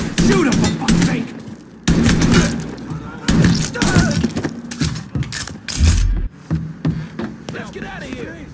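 Gunfire in the video game Mafia III comes in loud, rapid bursts of shots with heavy thuds and mechanical clatter, separated by short gaps. Voices talk and shout between the volleys.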